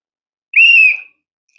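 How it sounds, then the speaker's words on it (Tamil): A single loud whistle blast, about half a second long and clear and piercing, is blown to start a game during a comedy interview show. It stands alone against silence. "நான் விசில் ஊதுறேங்க"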